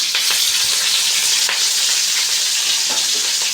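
Onions, green chillies and curry leaves fry in a pan with mustard seeds for upma, giving a steady, close, continuous sizzle with a few soft stirring scrapes and no voices.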